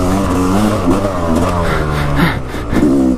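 Trail-riding vehicle on a Michigan trail with its engine revved hard at full throttle, a loud, close, sustained roar with rising and falling pitch that runs through the whole stretch with no talk.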